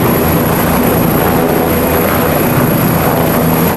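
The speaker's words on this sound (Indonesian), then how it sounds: "kita terbangkan helikopternya" Toy passenger helicopter with spinning rotor blades, a loud constant whirring drone with a high steady whine, running alone without pause.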